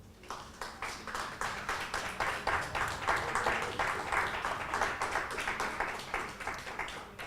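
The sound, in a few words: congregation applauding in church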